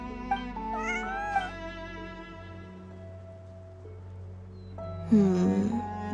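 A cartoonish cat meows a few times in Genshin Impact, short high pitched calls rising over a steady background music bed, with a louder, more drawn-out meow near the end.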